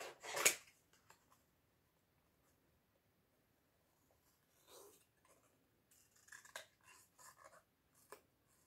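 Scissors cut a small nose shape out of pink paper or card for a bunny craft, with a sharp snip at the start and then sparse, faint clicks and rustles separated by quiet pauses.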